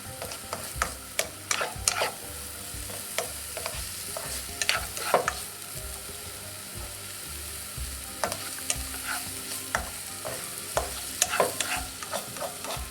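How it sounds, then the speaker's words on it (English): Onions frying in a pan for spaghetti bolognese, with a soft continuous sizzle broken by frequent sharp scrapes and clacks of stirring, close by and with no talking. "You can just hear them start to sizzle a little bit now."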